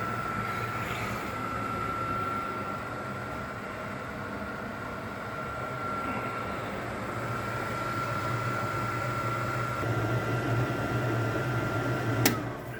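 A Totai cooker hood fan runs at low speed with a steady, close motor hum and broadband airflow hiss, nearly unchanging throughout, with a brief click near the end.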